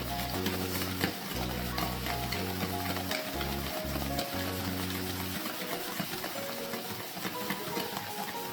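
Semolina halwa with milk stirred in a pan, a continuous close sizzle with scraping strokes and a steady low hum underneath throughout.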